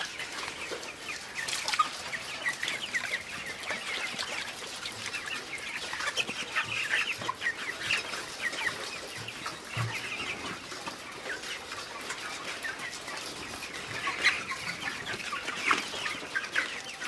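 A flock of 27-day-old broiler chickens clucks and murmurs continuously inside a pen house, a dense, steady chorus of many birds with no talk over it.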